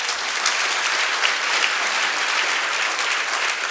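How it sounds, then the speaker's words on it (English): An audience gives sustained applause, dense and even clapping from many hands at an event honoring Delta Air Lines staff. "Give them a round of applause."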